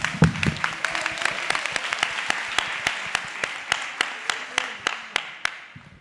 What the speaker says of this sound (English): Let's give her a round of